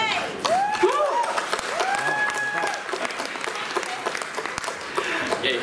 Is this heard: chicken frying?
no